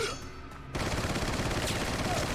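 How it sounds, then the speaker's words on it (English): An SMG fires in rapid continuous automatic bursts in Resident Evil 4, a dense steady rattle of gunfire that starts abruptly and runs to the end of the brief moment. "SMG."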